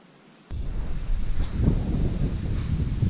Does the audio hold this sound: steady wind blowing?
yes